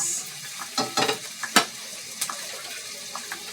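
Pork precooked in a pressure cooker is stirred in a frying pan, with a soft steady sizzle under several distinct scraping strokes of the utensil against the pan, close and fairly quiet.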